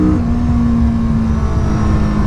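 Steady engine drone from a 2016 Kawasaki Vulcan S motorcycle as the throttle is worked, a continuous loud hum with a sustained tone and no talk over it.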